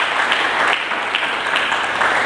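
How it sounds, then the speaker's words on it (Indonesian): A church congregation applauding during a Pentecost service, a dense, continuous wash of many hands clapping that fills the room steadily from start to end. "Berikan tepuk tangan bagi Yesus Kristus Tuhan."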